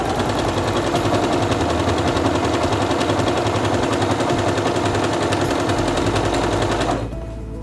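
A Singer Quantum Stylist 9960 sewing machine stitching fabric, running in a steady, rapid mechanical chatter that is loud and close, then stopping abruptly near the end.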